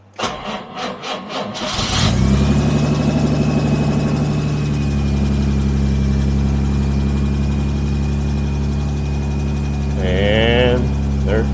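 Jaguar E-Type engine cranks a few times, catches and settles into a steady loud idle on choke in a workshop, running continuously with a brief rise near the end.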